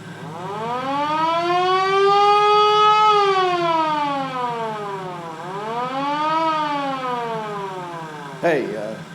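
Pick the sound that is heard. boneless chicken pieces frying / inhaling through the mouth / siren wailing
siren wailing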